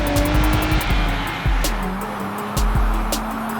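A 2023 Nissan Z accelerates hard, its engine note rising in repeated bursts while tires squeal in sharp, close, loud streaks, with no talk over it.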